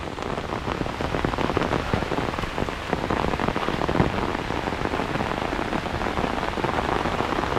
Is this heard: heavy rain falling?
yes